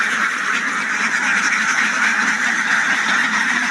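Ducks quack loudly and continuously as a crowded flock is let out toward a pond, their calls overlapping in a dense, unbroken chorus close by.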